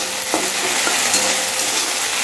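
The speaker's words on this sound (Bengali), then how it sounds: "এটা বসিয়ে নিলাম, ভেন্ডিটা ভাজা হোক" Okra frying in a pan, giving a close, constant sizzling hiss with a few faint stirring clicks and no voices.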